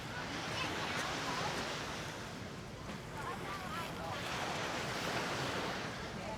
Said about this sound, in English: There's a few little waves, but they're only little waves.